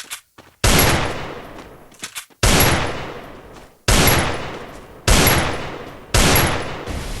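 Loud gunshots from an M1014 shotgun and Desert Eagle pistol in a video game blast out one at a time, five sharp bursts each ringing off, separated by brief quiet gaps.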